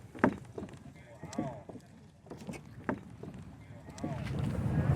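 Mud pots bubbling at Norris Geyser Basin's Porcelain Basin in Yellowstone give off soft, repeated blub-like pops near the listener, with people talking over them.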